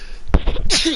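A single sharp human sneeze, close and loud, with a short intake before the burst and a breathy, hissing tail right after.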